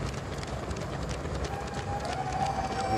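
Rhythmic footfalls of Prague International Marathon runners, the leading pacers in Adidas shoes, patter steadily on concrete at close range, with a faint tone running underneath.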